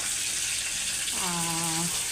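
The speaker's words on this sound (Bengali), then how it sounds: "ভাজতেছি।" Steady sizzling hiss of hilsa fish frying in hot oil, with a brief tonal hum rising over it partway through.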